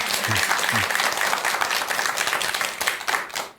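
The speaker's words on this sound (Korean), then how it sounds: "이런 때 박수 한번 치자고요." Listeners at a Buddhist lecture clap together in a dense, steady round of applause, with a voice briefly heard at the start.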